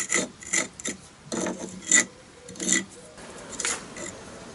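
A hand tool scrapes mortar-dirty bricks in short, rough rasping strokes, each lasting under a second in an uneven rhythm, close and moderately loud with no speech.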